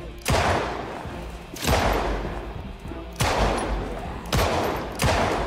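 Bursts of rapid gunfire in Project Zomboid erupt four times, each a loud volley that trails off into echo, with short gaps between.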